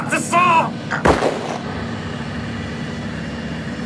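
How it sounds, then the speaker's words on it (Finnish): Gunshot sound effect in a radio play, one sharp, loud blast followed by a long low rumbling tail, with brief voice-like sounds just before it. "Kuulin laukauksen."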